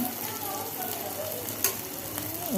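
Onions and tomatoes frying in a pan for a brinjal masala curry: a soft, even sizzle with a faint whistling tone and one sharp clink near the middle, heard up close.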